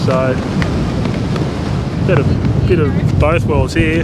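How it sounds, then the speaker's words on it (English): Strong wind buffets the microphone at a coastal lookout, a loud continuous low rumble with gusts, while someone talks over it. "it's pretty windy"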